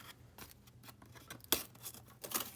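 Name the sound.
scissors cutting cardboard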